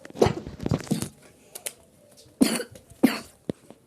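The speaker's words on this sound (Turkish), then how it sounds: "Öksürük başladı bir de." Several sharp coughs, close and loud, come in uneven bursts separated by quiet pauses.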